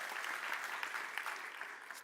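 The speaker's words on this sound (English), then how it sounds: "2 rounds of applause." A small audience claps in a brief steady round of applause, moderately distant and even in level, with no talk over it.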